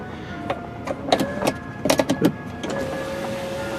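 The electric moonroof motor on a 2002 Hyundai Santa Fe LX whirs close by in short bursts with clicks and a rising tone as the glass moves, ending in a steady hum.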